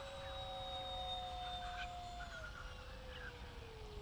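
A Tech-One Neptune EDF RC flying wing makes a full-throttle pass, its thin, high ducted-fan whine sliding steadily down in pitch as it goes by, faint and distant over outdoor background noise.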